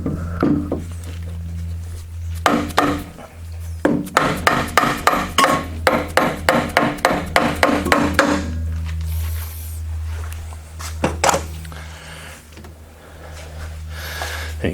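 A Torx bolt is hammered into a Maximum Motorsports K-member on a Fox Body Mustang: a steady run of about fifteen sharp, ringing metal blows, close and loud, with a few scattered knocks before and after over a low background hum.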